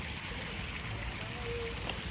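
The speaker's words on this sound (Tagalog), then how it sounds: "Tubig po, tubig. Dagat po, dagat." Sea water at Alaminos, Pangasinan, washes as a steady, soft broadband rush of waves, faint and distant, with no voices over it.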